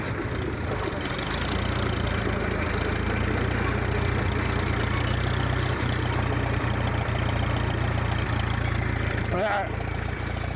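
A 1938 Farmall F-20 tractor engine labors steadily at about half throttle while climbing a hill, a continuous loud low rumble that stays close throughout.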